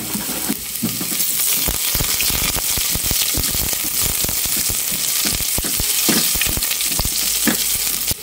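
Ginger sizzles loudly in boiling cooking oil, a dense and constant frying crackle with scattered sharp pops and stirring clatter running throughout, close and with no voices.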